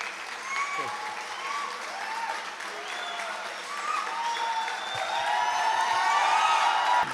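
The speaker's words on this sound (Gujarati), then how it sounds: "ભરપૂર તાળીથી આમનું સન્માન કરો" A standing crowd at a Gujarati Lok Dayro folk event in London applauds the guests with sustained, swelling clapping and some cheering that grows louder toward the end, while voices carry over it.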